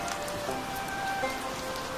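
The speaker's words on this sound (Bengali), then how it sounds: "বৃষ্টি তখনও পড়ে চলেছে।" Rain falls steadily at a moderate distance, an even, soft patter with no voices, over a faint tonal hum in the background.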